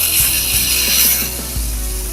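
Small SMC dynamo motor in a Mini 4WD car spinning during break-in on about 2.8 volts, a steady high-pitched whine with faint ticking and rattling underneath that drops slightly near the end.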